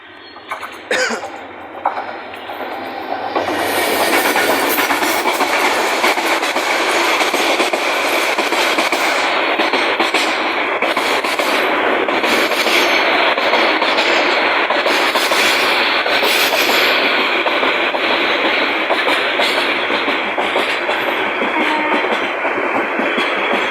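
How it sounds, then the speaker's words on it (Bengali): A train passing Banani rail gate in Dhaka, a loud sustained roar with rumbling and rattling wheels that builds within seconds and continues close by to the end. "এখন ট্রেনটি যাচ্ছে"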